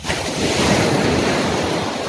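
Surf rolling onto Lon Malang beach in Sampang, Madura, a steady close roar of breaking waves with wind buffeting the microphone throughout, no voices.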